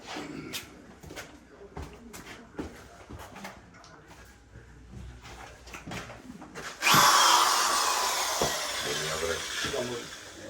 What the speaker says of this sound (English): We drill a pre-hole.